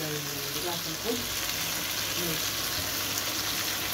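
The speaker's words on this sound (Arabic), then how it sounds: "معانا الجمبري الجميل ده، ننزل عليه." Shrimp frying in a pan with vegetables, a steady close sizzle and crackle running throughout, with someone talking faintly over it.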